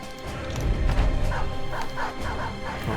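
A dog barks and yelps amid crashes and battle noise in the Peasant Militia strategy game, a cluster of close, loud bursts early on, then quieter yips and whimpers fading over a dense game soundscape.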